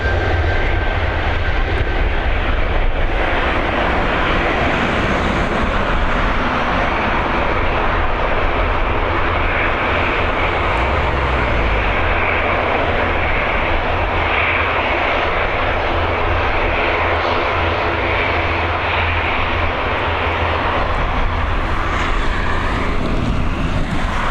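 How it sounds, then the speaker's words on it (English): Swiss Airlines Airbus A220 jet departing Dublin Airport's runway 28L for Geneva, its engines a loud, sustained broadband roar that holds steady throughout, with no voices over it. "back-to-back A220s, back-to-back Swiss Airlines, and this one heading over to Geneva"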